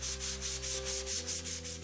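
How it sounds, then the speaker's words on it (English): Light sanding of wood, a soft rhythmic rasping in even back-and-forth strokes, close by, with a low steady hum underneath. "Some light sanding,"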